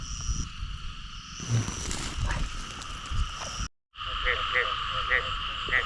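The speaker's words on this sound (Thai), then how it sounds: "มีกบมันร้องครับ" Frogs croak by a pond on a rainy night, a steady repeating chorus with sharper individual croaks up close, while someone talks over it and there is a brief dropout partway through.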